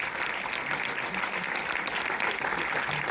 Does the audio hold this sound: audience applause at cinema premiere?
yes